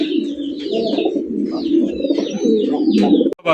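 Fancy pigeons on a farm cooing repeatedly, close and clear, in overlapping rolling calls with occasional higher chirps and a brief sharp knock near the end.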